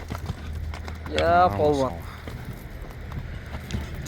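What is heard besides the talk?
horse hooves clip-clopping while being walked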